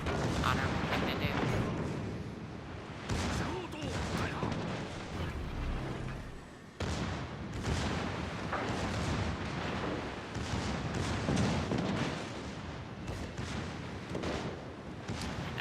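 Battleships trading gunfire in a naval video game, with repeated heavy booms and rumbling blasts over a steady roar, loud throughout, and someone talking over the action.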